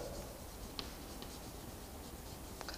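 Chalk or marker writing on a board during a lesson produces faint scratchy taps and short strokes over a low room hiss, with no voice.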